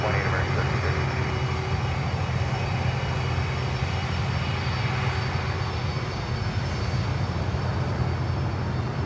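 A heavy jet airliner's engines drone steadily at Miami airport during taxi, a constant loud low rumble with broadband roar filling the whole stretch without pause.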